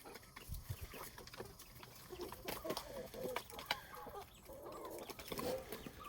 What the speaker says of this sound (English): She's not a nice hen.